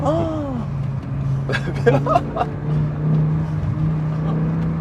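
A BMW M5 E60 engine drones steadily from inside the car while someone talks excitedly over it, the engine note holding a constant hum with slight swells.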